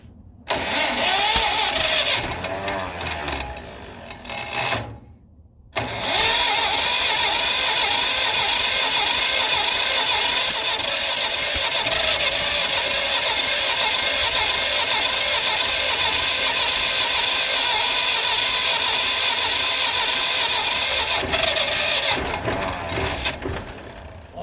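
A John Deere B tractor that sat unused for many years cranks briefly, then starts and keeps running with a loud, steady, close-up engine chug for about twenty seconds.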